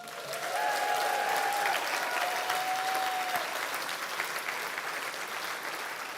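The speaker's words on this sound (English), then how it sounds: "Give yourselves a clap." Steady, dense applause from a large audience at a Scottish charity awards ceremony, a sustained even wash of clapping throughout with a faint tone sounding briefly in the background.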